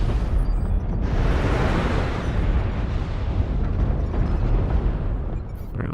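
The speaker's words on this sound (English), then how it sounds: "Airstrike." Airstrike explosions in a mech combat video game rumble as one continuous, loud, dense roar of blasts that fills the whole stretch without pause.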